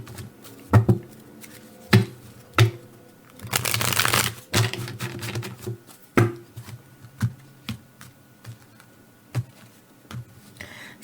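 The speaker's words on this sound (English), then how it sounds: "Let me give it a couple more shuffles." Tarot cards are shuffled by hand in a quiet room, a series of sharp riffling snaps and soft slaps at irregular intervals, one longer burst of riffling in the middle, near and alone.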